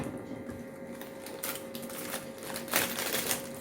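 Foil paper wrapped around hot parotta crinkles and rustles as it is opened, in soft close-up bursts of crackling with no talk.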